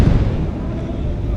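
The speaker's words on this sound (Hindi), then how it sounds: "ये तोपों की गूंज" Artillery guns firing at an army parade, a dense booming rumble with heavy low-end concussion that rolls on steadily and loud throughout, with no clear gaps between blasts.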